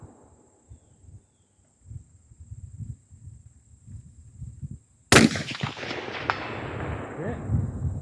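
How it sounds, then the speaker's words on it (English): A Palmetto AR-15 rifle fires a single loud, sharp crack at a 300-yard outdoor range, then a long rolling echo fades out after a quiet stretch of faint low rumble. "Take one more shot with this."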